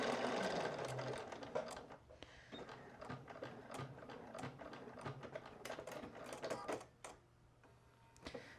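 A sewing machine stitching a seam on a Cashmerette Irving dress, close-up mechanical whirring and rapid needle clatter in short bursts that start, pause and resume.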